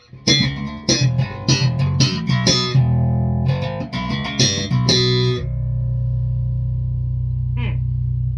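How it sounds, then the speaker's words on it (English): An electric bass runs through a BMod 5 preamp set to natural mids with the bass at D10, playing a run of loud plucked notes and slides that ends in a long sustained low note, with a brief high squeak near the end. "That's natural mids and a D10 of bass."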